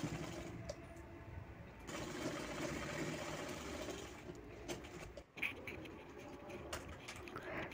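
A sewing machine stitches fabric for a baby's summer frock, running in a steady mechanical whir that pauses and restarts, with faint background noise.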